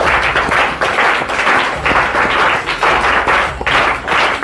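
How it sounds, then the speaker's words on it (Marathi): A crowd at a birthday celebration for a public figure breaks into loud, sustained applause, rhythmic surges of clapping continuing throughout with no speech over it. "एकदा टाळ्यांचा गजर त्यांच्यासाठी आपण साजरा करावा"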